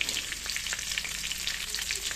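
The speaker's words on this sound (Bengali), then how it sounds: "আর মাছ ভাজা হচ্ছে, এখানে আছে রুই মাছ, আর হচ্ছে তোমার শোল মাছের বাচ্চা" Rohu and small snakehead fish frying in oil, a dense, even crackling sizzle with fine popping spatters, close and continuous without talk.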